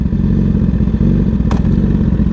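A motorcycle idling with a loud, steady, close engine rumble on a wet day while it is clicked down into first gear, with a brief mechanical clunk partway through and no talking.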